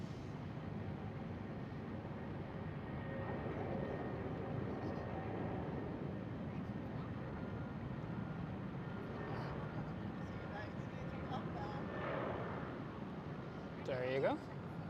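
A KLM Boeing 737 airliner at Amsterdam Schiphol airport, a faint, distant steady jet rumble heard under nearby chatter, with a brief louder swell near the end.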